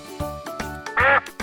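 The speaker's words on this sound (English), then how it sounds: "Yes, it's a duck." A duck quacks in a short burst of loud, nasal calls, with a few softer quacks leading up to one strong, sustained quack near the end.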